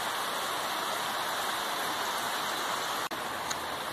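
Dense, steady downpour near a house where pamonha is being prepared, a constant close hiss with one brief dip and a small knock near the end, no speech.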